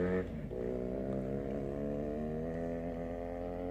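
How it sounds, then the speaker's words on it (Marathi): A Bullet motorcycle engine idling and running at a village cricket tournament, a steady low throbbing rumble with a brief rev at the start, fairly close. "बघा गाडीचा आवाज किती मस्त आहे."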